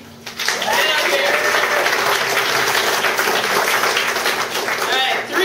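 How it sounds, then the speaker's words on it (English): Audience applause for a performer coming on stage, a loud, dense wash of many hands clapping that swells in quickly and holds steady, with voices and cheers mixed in. "Give a huge round of applause to Bob MacKenzie."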